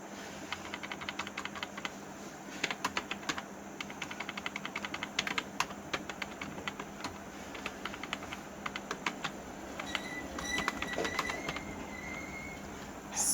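Typing on a computer keyboard, rapid irregular clicking of keys in bursts, close and fairly quiet, with a faint hum behind.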